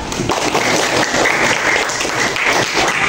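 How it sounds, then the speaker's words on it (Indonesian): A classroom of students clapping together, dense and fairly loud close-up applause sustained evenly for a few seconds with no talking. "Selanjutnya, boleh dong tepuk tangan."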